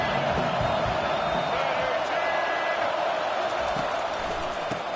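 Stadium crowd at a college football game roars steadily to urge on the defense, a dense, sustained wall of voices with a commentator talking over it.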